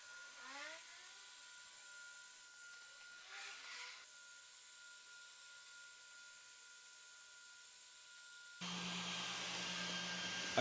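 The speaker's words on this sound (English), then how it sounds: "So we can hit play on the computer and let this machine start doing what it needs to do." A Creality Falcon 2 40W laser engraver runs with a quiet, steady whir and faint motor tones, and brief sweeping chirps come early on. Near the end a louder, broader fan-like roar joins in.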